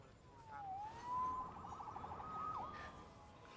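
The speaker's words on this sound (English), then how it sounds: "Saved by the siren." A police siren wails in the Spider-Man PS4 game, a single rising-and-falling tone that swells and fades against a low background rumble, with no talk over it.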